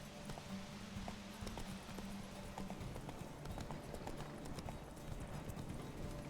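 Horse hooves clip-clop at a quick, even gallop in The Witcher 3, a steady rhythmic pattern of fairly quiet thuds running throughout alongside a low hum.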